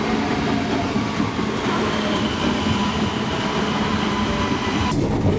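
A train rolls past in Porto with a loud, steady rumble and rattling wheel clatter that carries on throughout, then changes tone abruptly near the end.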